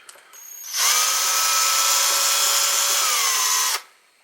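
A small power drill with a 3 mm bit bores into a Märklin model locomotive part, a steady high whine running about three seconds with a sharp start and stop, close and alone.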